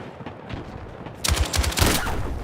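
Battlefield 6 gunfire erupts midway as a loud burst of rapid automatic shots, preceded by quieter game ambience.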